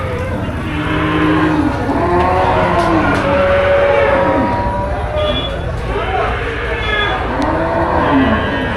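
Cattle and bulls at a cattle market low repeatedly, several drawn-out moos rising and falling over a dense backdrop of crowd chatter and passing road traffic, loud and near throughout.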